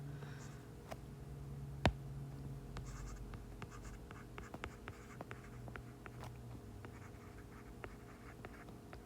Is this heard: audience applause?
no